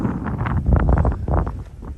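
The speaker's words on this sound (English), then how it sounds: "Still pretty windy." Gusty wind buffets the microphone steadily, a loud, rumbling roar with no voices, while riding a Ducati Hypermotard 950 SP motorcycle.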